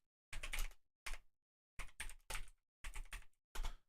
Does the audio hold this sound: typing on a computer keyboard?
yes